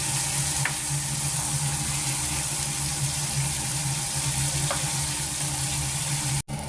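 Marinated chicken tikka pieces fry in a pan with a steady, close sizzle and crackle, turned to the second side partway through, with a brief soft scrape or tap near the end.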